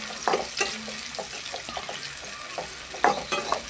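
Chopped onions with cinnamon frying in a pan for a mint chicken gravy, a steady high sizzle punctuated by scraping stirs and clinks of the spoon, close and clear with no talk.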